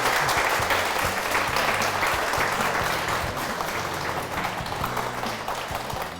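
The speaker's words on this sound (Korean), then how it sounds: "박수로 맞아주시기 바랍니다" A studio audience at a televised Korean Christian talk concert applauds steadily as a university president is welcomed onto the stage, a dense, sustained clapping that fades slightly toward the end.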